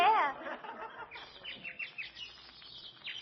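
Short, bright bird chirps and trills repeat at a quiet level in an Abbott and Costello radio comedy show, with one brief louder vocal burst at the very start.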